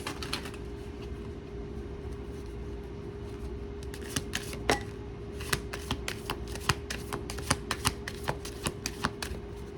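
A tarot card deck being shuffled close by: a soft papery rustle at first, then a run of crisp riffling flicks growing more rhythmic toward the end, with no talking.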